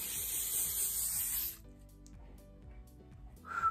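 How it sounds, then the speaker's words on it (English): Hairspray hisses onto hair in one loud, steady aerosol burst lasting about a second and a half, followed by quiet handling noises and a brief soft rustle near the end. "Hairspray."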